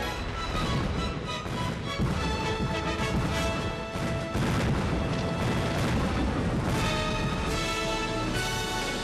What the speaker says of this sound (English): The splendid fireworks at the Beijing Olympic Games garnered wide acclaim and admiration from the audience.